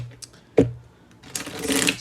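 Tarot cards being shuffled by hand in a reading, a quick fluttering riffle after a soft tap, close and fairly loud, with no talk over it.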